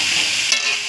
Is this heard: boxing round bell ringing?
no